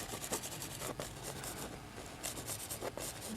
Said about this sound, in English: Just rubbing a little of that brown right in there.